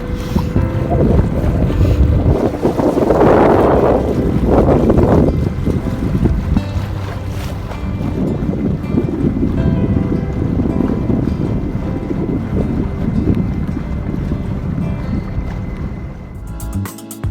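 Strong gusting wind buffets the microphone on a sailboat on Lake Ontario, with a loud rush early on and steady blustery noise after, over faint water movement and no talk.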